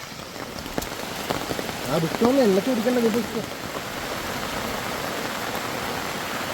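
Heavy monsoon rain pours steadily over the forest trail in Parambikulam Tiger Reserve, a dense hiss throughout, while someone speaks briefly in the middle.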